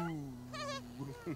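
A cat meowing in The Sims 3, a single short nasal meow rising out of a continuous tonal drone from the game.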